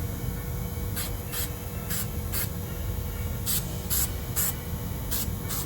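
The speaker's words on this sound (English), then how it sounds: "Take our little dome, little bit of the Super 77 spray." Short hissing bursts of Super 77 spray adhesive onto a dome come in quick pairs and clusters, about nine sharp sprays over steady background noise.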